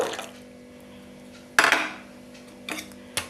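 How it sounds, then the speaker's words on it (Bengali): Milk is whisked into a rabdi mixture in a metal bowl, and sharp clinks of the whisk against the bowl come in three quick bursts over a quiet background. There is no speech. "এখন দুধটা দিয়ে আমি কিন্তু আরও 5 মিনিট ভালো করে ফেটিয়ে নিচ্ছি"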